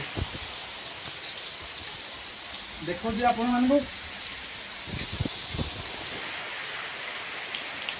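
Steady rain patters on a surface inside a cave, a constant hiss that runs the whole time beneath a man's brief speech.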